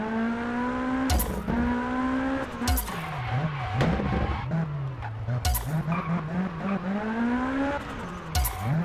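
A high-revving small formula-style race car in the PC rally game Sebastien Loeb Rally Evo screams through repeated gear changes, its whining engine note climbing and dropping, with sharp tire skids and squeals bursting in at intervals; no one talks.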